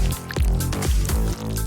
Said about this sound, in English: Drip on some dark hot glue.